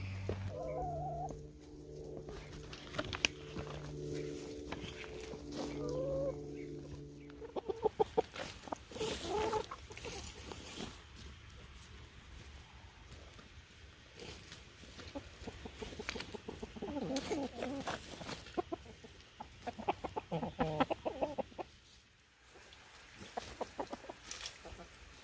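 Chickens cluck and squawk close by in a busy flock, with scattered sharp calls, rustling, and brief talking mixed in.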